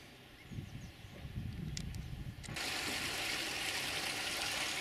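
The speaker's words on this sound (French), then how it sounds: "Un petit ruisseau." A small stream flows steadily through a garden property near Le Havre, a continuous broadband wash that grows louder and brighter partway through, with faint low rumble beneath and no voices.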